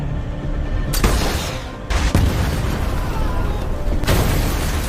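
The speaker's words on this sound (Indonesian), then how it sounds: "sebuah serangan RPG sukses membuat satu mobil pengawal Donovan meledak" Several loud, booming RPG blasts hit in sequence, blowing up a car, each a sharp broadband burst followed by rumbling debris and roar, with a final explosion near the end.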